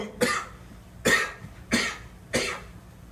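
Four separate dry coughs from one person, close and moderately loud, spaced roughly evenly apart with brief quiet between each.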